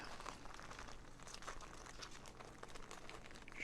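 Sealed foil trading card packs being shuffled together, a steady soft crinkling and rustling of wrappers close by, quiet and continuous with no talk.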